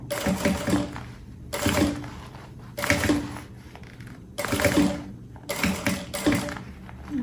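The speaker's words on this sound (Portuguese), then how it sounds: "Eu vou costurando, só que agora eu tô com essa outra parte do bolso pra cima." A sewing machine stitching a fabric bag pocket runs in short bursts, five rattling mechanical runs separated by brief pauses, close and fairly loud with no talking.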